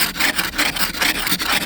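An ice scraper's claw side rakes freezing-rain ice off a car windshield in Minnesota, producing loud, close, rapid back-and-forth scraping strokes in a steady rhythm.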